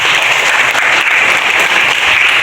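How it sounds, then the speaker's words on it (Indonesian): Students in an Indonesian Islamic education classroom burst into dense, continuous applause, a steady wash of many hands clapping together, with no voices over it. "Kasih tepuk tangan dulu dong."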